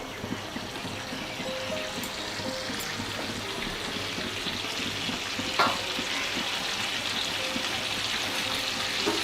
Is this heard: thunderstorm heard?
no